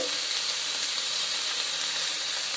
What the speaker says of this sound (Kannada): ಈ ಥರ ಫ್ರೈ ಮಾಡ್ಕೊಳ್ಳಿ ಜೊತೆಗೇನೆ ಇದು ಒಂದು ಐದು ನಿಮಿಷ ಇದೇ ಥರ ಸಣ್ಣ ಮಡಿಕೊಂಡು ಫ್ರೈ ಮಾಡ್ಕೊಳ್ಳಿ